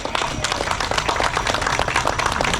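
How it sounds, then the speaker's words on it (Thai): Audience clapping after a donation announcement at a charity run, a steady, dense patter of many hands carrying on without pause, with an outdoor crowd murmur underneath. "ปรบมือให้กับพวกเราหน่อ ยครับ"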